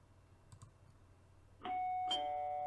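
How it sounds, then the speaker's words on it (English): Pre-recorded doorbell chime played through a Hikvision IP PoE intercom door station: a few faint clicks, then a bright two-tone electronic chime that rings out clearly in a quiet room. "Okay, straightforward doorbell."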